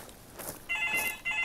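A telephone rings in short tonal bursts, two electronic trills close together over faint rustling footsteps, clear and fairly near.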